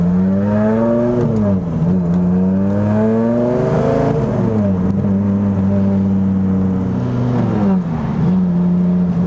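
A turbocharged Dodge Viper GTS engine revs steadily while driving, its pitch rising and falling in repeated waves. The drone is loud, close and continuous, with no voices.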